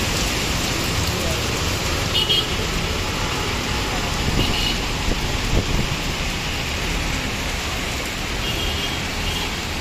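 Heavy rain pours steadily on Dhaka streets during a gusty storm, a dense continuous hiss close by with faint traffic underneath and no pauses.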